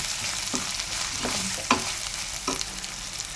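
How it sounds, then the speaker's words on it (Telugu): A spoon stirs turmeric and asafoetida powder into hot oil in a frying pan, a steady soft sizzle with several distinct scraping strokes and a sharp clink partway through. "పసుపు, అలాగే కొంచెం ఇంగుం పౌడర్ వేసేసి కలిపేసుకుందాం."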